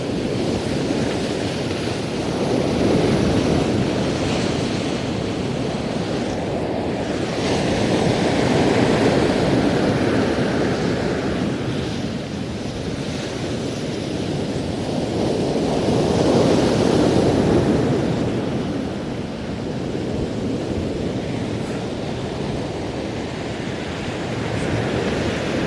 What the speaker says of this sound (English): It's nice and relaxing, this sea rolling shore sounds